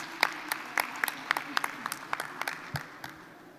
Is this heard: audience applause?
yes